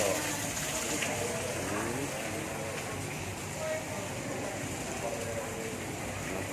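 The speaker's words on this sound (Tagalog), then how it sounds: "Yan naman yung waterfall. Yan po ang tubig." A waterfall roars steadily and evenly, a continuous rushing wash of water that fills the whole scene.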